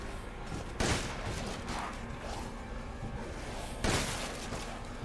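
Two heavy shotgun blasts, a few seconds apart, in the Resident Evil Village video game, each a sharp boom over a steady noisy game background with no talking.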